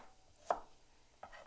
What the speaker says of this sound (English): I'm gonna slice this a little bit and put it in here.